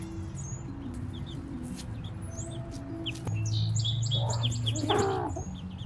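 Backyard hens cluck in short, repeated bursts over a steady low ambient hum, alongside sharp chirps and tweets from birds, growing louder and busier toward the end.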